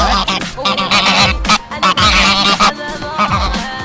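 Loud, dense honking from several aggressive geese close by, attacking and biting a reporter's microphone, harsh repeated calls with scuffling and flapping, continuous throughout.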